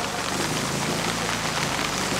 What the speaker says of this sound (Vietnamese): Mưa càng ngày càng dày hạt mọi người ạ.